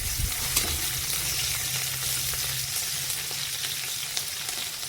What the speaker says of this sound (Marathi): तर आता त्याच्यामध्ये आपल्याला ठेचलेला लसूण घालायचा आहे। सोबतच लगेच मी हिरव्या मिरच्या घालणार आहे।